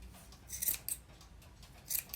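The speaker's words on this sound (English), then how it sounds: "you're just going to take your scissors and start cutting" Scissors snip through yarn loops a few times up close, quick metallic cuts spaced irregularly against a quiet background.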